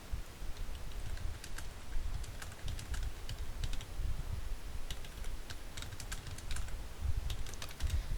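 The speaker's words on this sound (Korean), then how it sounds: "그런 다음에 이제 글자를 타이핑을 하시면 되세요." Steady, rapid typing on a computer keyboard, close up, with irregular clusters of key clicks continuing throughout and no voices.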